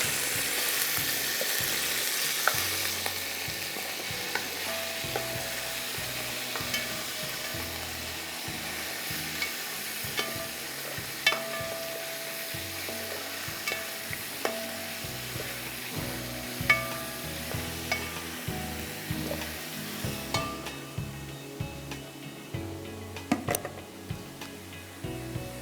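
Chicken pieces sizzle in a pan while being stirred, giving a steady frying hiss with repeated soft scraping knocks from the spoon, close and continuous.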